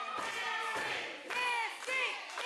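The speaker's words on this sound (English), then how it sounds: "Listen to this crowd firmly behind Mystii Marks" A wrestling event crowd roars in steady waves of cheering and shouting, with bursts swelling every second or so and occasional thuds, loud and close throughout.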